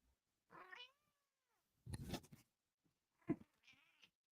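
A black cat gives two quiet, drawn-out meows indoors, separated by a burst of rustling and a soft thump, with no one talking.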